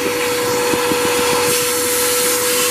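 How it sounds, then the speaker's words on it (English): A vacuum cleaner clears debris from the dirty inside of a Craftsman leaf blower assembly, a loud steady whine and rushing hum that stays level throughout with no talking. "I'll use my vacuum cleaner to clean out some of the debris"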